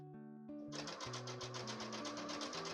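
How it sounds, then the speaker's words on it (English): A sewing machine stitches batting onto fabric squares, starting after a brief pause and then running in a fast, even rhythmic chatter, close and clear over soft background music. "I'm just going to sew the batting on to the right of each one of these"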